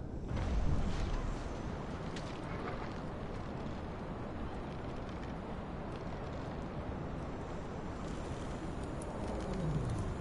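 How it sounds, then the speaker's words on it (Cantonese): Continuous cooing of birds in the video game Far Cry Primal over a dense, rumbling background, birdlike calls repeating steadily throughout without any talk. "係肥雀仔啊！"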